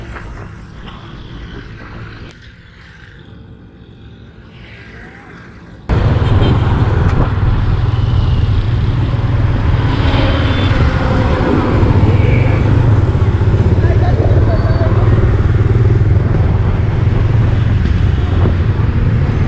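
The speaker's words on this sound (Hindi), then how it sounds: "यहाँ पर वैसे ही बाइक वगैरह का काफ़ी रश है।" Motorbikes and busy city traffic in Gujranwala, Pakistan, heard during a bike ride: a dense, loud roar of engines and road noise that swells abruptly after a quieter start and stays constant.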